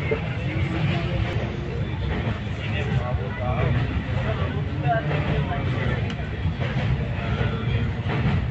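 Passenger express train on the Tambaram–New Tinsukia route running steadily, a continuous loud rumble and rattle of wheels and carriages with faint clicks, heard from on board.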